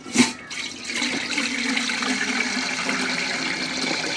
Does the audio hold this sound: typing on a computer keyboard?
no